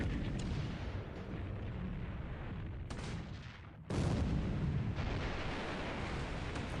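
Battleship main guns firing in a naval war video game, heavy booming bursts layered into a dense continuous rumble, loud, with a brief dip before another blast, no one talking.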